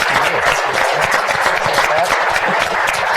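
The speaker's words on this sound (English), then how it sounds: "how about a round of applause for Adam Gilbertson?" Audience applause for Adam Gilbertson of RDO Equipment at a Montana Equipment Dealers Association event: steady, dense clapping from a crowd filling the whole stretch at an even, loud level.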